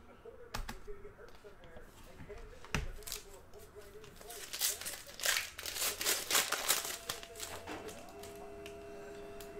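Retail packs of 2019 Panini Donruss Optic football trading cards being ripped open, with sharp crinkling foil tears and rustling wrapper bursts up close, some louder flurries midway, and a steady faint hum behind.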